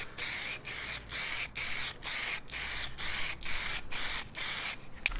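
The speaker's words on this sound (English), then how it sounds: "I decided to add a spray varnish for a couple of reasons." Repeated bursts of spray varnish onto a wooden chess board, about ten short aerosol hisses in a steady rhythm with brief pauses between, close and fairly loud.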